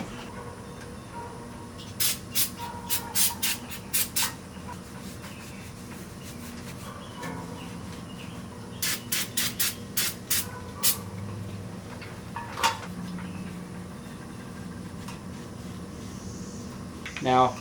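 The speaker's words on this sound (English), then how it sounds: "so we're using brake cleaner" Brake cleaner sprayed from an aerosol can onto car wheels, two series of short hissing bursts in quick succession with a lone burst later, set against a low background hum.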